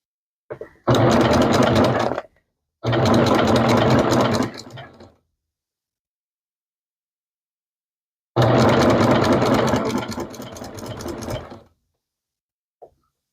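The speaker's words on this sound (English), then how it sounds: "If you see me sewing and I stop, it's because it gets stuck." A sewing machine stitches a quilt repair in three loud close bursts of rapid mechanical clatter, each stopping abruptly with silent pauses between, the last burst slowing and fading before a brief click.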